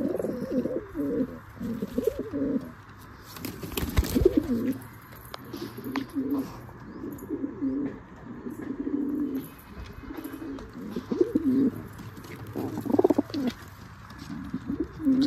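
A pigeon coos close by in repeated soft, throaty, rolling phrases, with brief pauses between calls and light background noise.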